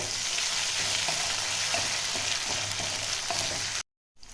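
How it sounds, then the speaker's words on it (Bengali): Ginger frying slowly in a pan over low heat for a Bengali dohi potol dish: a steady, close sizzle with faint stirring clicks, then a sudden cut to silence near the end. "আস্তে আস্তে এটা ভাজতে হবে।"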